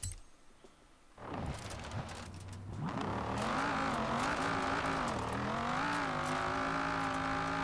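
A car engine in Forza Horizon 4 idles and then revs up, accelerating hard into a loud, sustained drone with shifting pitch as the car speeds along, with no talk over it.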